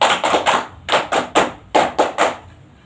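A classroom clap chant for a sports lesson, with about nine sharp, rhythmic hand claps in short groups of three, loud and close, with no voices over them.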